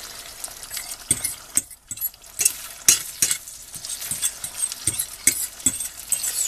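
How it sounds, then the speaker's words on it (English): Scrambled eggs with caviar being stirred in a pan, with rhythmic scraping and clicking strokes over a light sizzle, close and moderately loud, without speech. "they're already getting scrambled"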